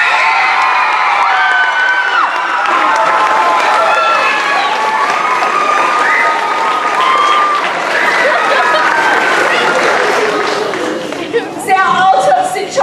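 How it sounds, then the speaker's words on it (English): An audience at a school musical production of Willy Wonka Jr. claps and cheers loudly for about twelve seconds, with children's shouts and whoops mixed into the steady applause. "Let's hear it for Mr. and Mrs. Bucket."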